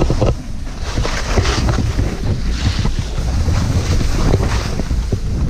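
Strong gusty wind buffets the microphone at a ski area, roaring and swelling in waves with water sloshing nearby, no talking.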